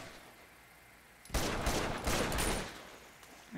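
Gunfire from the PS4 video game Uncharted 2: Among Thieves: after a quiet start, a burst of several rapid shots rings out loud and close, continuing for about two seconds with no talking.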